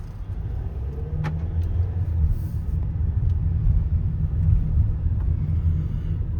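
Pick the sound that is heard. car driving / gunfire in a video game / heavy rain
car driving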